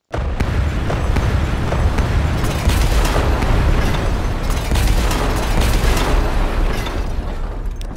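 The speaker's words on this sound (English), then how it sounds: "I'm gonna detonate this station." A railway station demolished by detonation in Transport Fever 2, a loud sustained roaring blast with crackling debris and rumbling booms lasting several seconds.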